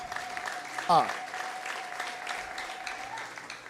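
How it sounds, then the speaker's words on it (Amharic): A church congregation claps together during a sermon, a steady crackle of many hands with a preacher's voice running over it and one sharp loud thud near the start. "እስኪ አጨብጭቡ ሲለ ጌታ"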